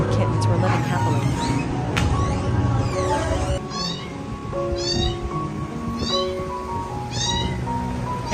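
Several cats and kittens meow repeatedly in a home, a rising series of clear mewing calls over a busy background with some voices and household noise.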